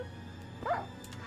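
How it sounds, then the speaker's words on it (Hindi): A single short, faint, high whine from a Minecraft dog rises and falls once over a quiet game background. "ये कुत्ते का आवाज आ रहा है"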